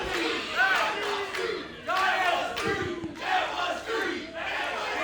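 Wrestling crowd at an indie show reacting to a near fall, rhythmic chanting in repeated surges of many voices in a hall, loud and close, with bursts about once a second.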